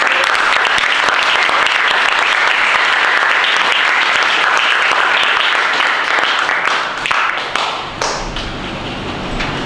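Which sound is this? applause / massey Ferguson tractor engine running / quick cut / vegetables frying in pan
applause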